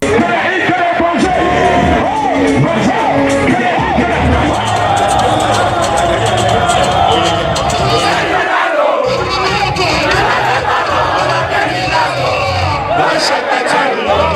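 A crowd roars and cheers at an outdoor political garden party concert in Parakou, a loud, continuous dense wall of shouting voices close by, with a brief dip near the middle.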